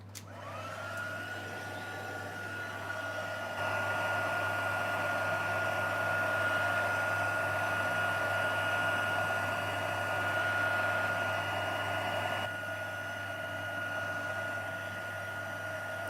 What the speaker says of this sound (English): going to bring my heat tool in and we'll just melt that powder quickly